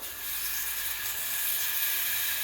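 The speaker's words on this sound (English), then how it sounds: "start off the steam" A Breville Oracle BES980 espresso machine's steam wand purges in a steady, continuous hiss that stays fairly even and close throughout, with no talking.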